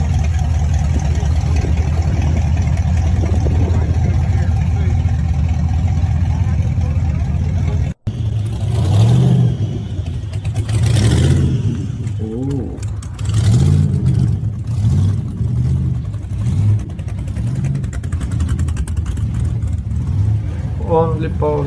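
A powerful V10 engine in a car simulator game drones at idle, then revs in repeated rising bursts, loud and close, with talk mixed in.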